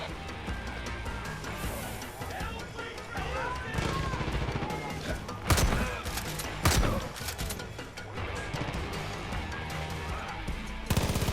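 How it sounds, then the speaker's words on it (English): Explosive charges set off like fireworks in Far Cry 5, with a rapid string of cracking blasts and bursts, loud and dense throughout, mixed with game sound. "Set the charges and finish this with fireworks."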